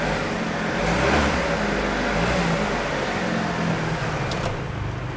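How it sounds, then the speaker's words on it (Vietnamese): A 2008 Chevrolet Captiva with automatic transmission and about 120,000 km runs smoothly, giving an even, muted engine hum with broadband rushing noise, steady and close throughout. "Máy là rất êm."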